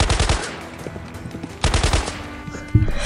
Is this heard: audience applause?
no